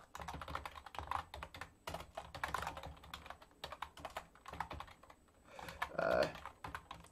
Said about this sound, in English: I don't know how old this keyboard is, but it's just unbelievably noisy and unbelievably difficult to type on.